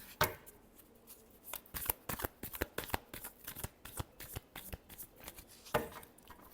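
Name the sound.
shuffling tarot cards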